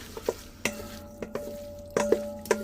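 Pasta salad dressed with extra virgin olive oil gets stirred in a bowl, producing a handful of sharp, close clinks and scrapes at an uneven rhythm, with a faint steady hum underneath.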